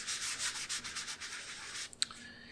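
A plastic barricade surface being wiped clean, quick rhythmic rubbing and scrubbing strokes, close and fairly soft, ending with a couple of small taps.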